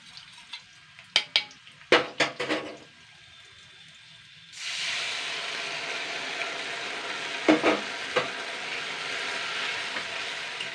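Egg chilli cooking: batter added to onion and capsicum frying in a pan, a few sharp clatters of stirring, then a steady loud sizzle with more scraping strokes.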